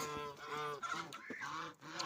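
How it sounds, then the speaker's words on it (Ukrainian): Young geese honk repeatedly up close, overlapping nasal calls in quick succession with no talking. "качки і гуси молоді всі в нас тут."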